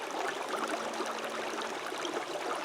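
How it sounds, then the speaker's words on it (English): Water runs steadily through a creek full of flood material, a close, continuous rushing hiss with no break and no voices. "lots of good water running"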